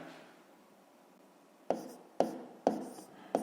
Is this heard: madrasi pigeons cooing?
no